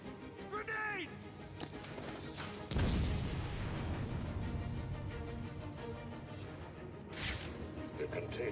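A grenade goes off in Batman: Arkham City with a sudden low boom and a crashing rumble that fades out, while people talk and shout around it.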